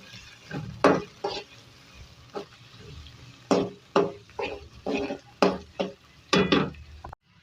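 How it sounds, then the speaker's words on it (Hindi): Onions and green chillies frying in hot oil for a potato sabzi, heard as a steady sizzle broken by about ten sharp scraping stirs of a spatula against the pan, close and fairly loud, with no talk. "इसके बाद हम इसके अंदर 2 मीडियम साइज की प्याज और ग्रीन चिल्ली इसके अंदर ऐड करेंगे।"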